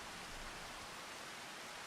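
Steady rainfall in the farming game Farming Simulator 25 on the Chipping Norton map, an even, continuous hiss of rain with no breaks, faint and uniform, alone with no voices.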